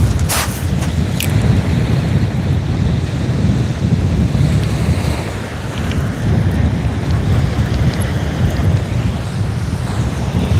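Strong wind buffets over the open sea from a kayak on a sea fishing trip, a steady loud roar of gusts and wind noise on the microphone mixed with surf, continuous throughout with no talking.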